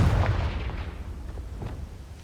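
A Confringo fire spell from Hogwarts Legacy explodes in a deep, booming burst, followed by a few fainter rumbling pops and crackles that fade away with no talking.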